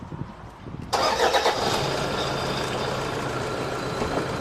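A four-wheel-drive four-door pickup truck engine cranks and fires at about one second, then settles into a steady, loud, close idle that runs to the end with no talking.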